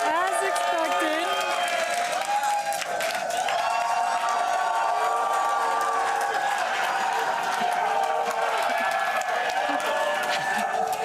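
A large crowd of SpaceX employees at Hawthorne cheering and whooping during a Starship launch, a steady, loud roar of many voices with clapping mixed in throughout.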